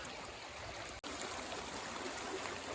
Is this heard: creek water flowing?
yes